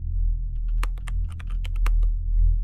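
Fast typing on a computer keyboard, a quick burst of about a dozen sharp key clicks close to the microphone over a low steady hum.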